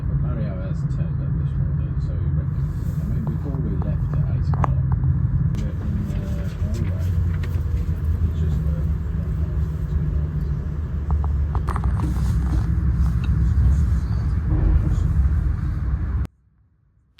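An Avanti West Coast train running at 125 mph gives a steady, loud low rumble and road-like roar that holds for about sixteen seconds, then cuts off abruptly.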